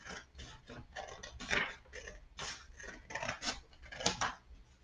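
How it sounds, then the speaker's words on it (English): Scissors cut through folded paper along a line for a paper flower, a close, steady run of crisp snipping and rasping strokes with short gaps between them. "here I'm going to cut right along this line."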